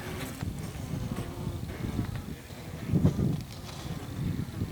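Bees cluster inside a wintering hive and give off a low, faint buzz beneath wind and handling noise, with a few louder rustles.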